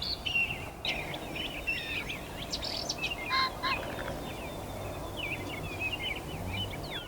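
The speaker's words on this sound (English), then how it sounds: "It's just constant gobbles." Wild turkeys calling at dawn in an Iowa river bottom, a steady chorus of repeated gobbles and calls from several birds at varying distances, some near and some far, with other birdsong mixed in and no talking.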